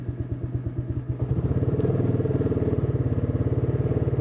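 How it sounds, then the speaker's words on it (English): A Coleman AT125UT youth ATV engine warming up with the choke on, a steady close idle that rises as throttle is added and settles into a fast, even putter. No one speaks. "I give it a little bit of gas, let it warm up."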